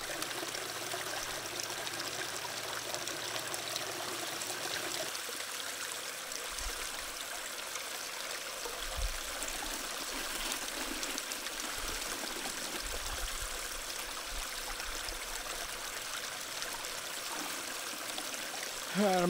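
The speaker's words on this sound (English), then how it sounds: "let's get to it and start washing some dirt" Water runs and trickles steadily while gold paydirt is washed by hand, a soft continuous stream with occasional low sloshes and gurgles, fairly quiet and close.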